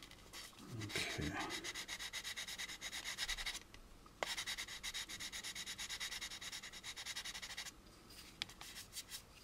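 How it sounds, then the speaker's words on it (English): Sandpaper rubbing in steady back-and-forth strokes around a curved part of an AMT U.S.S. Enterprise plastic model kit, close and continuous with two brief pauses. "Rolling the sandpaper around that curve."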